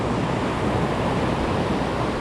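Ocean surf breaking on a fishing beach, a steady full roar of waves and wash right up close, continuous and loud with no voices.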